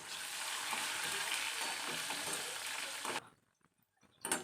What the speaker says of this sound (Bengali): সেগুলো একটু ভেজে, ভালো করে ভেজে নিয়ে তারপরে খিচুড়িতে দিয়ে দেবো